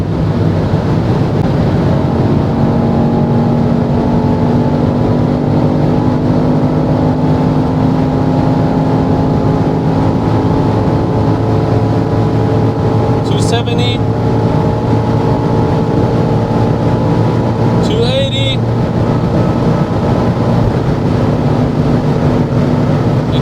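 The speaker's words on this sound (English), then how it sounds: "290, that's the top speed. We hit the top speed of the XM label." A red BMW XM Label roars along the Autobahn at around 290 km/h, a loud sustained engine drone and heavy wind and road rush heard from inside the cabin, with two brief higher bursts partway through.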